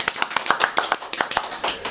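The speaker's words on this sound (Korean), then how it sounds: "박수!" Clapping welcomes a guest on a Korean talk-show interview: a handful of people clap in sharp, close, uneven bursts for about two seconds, with no speech over it.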